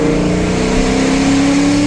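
Terminator Cobra engine at wide open throttle, pulling hard with a loud, steady high-revving roar and a strong rising harmonic tone, close and continuous with no talking.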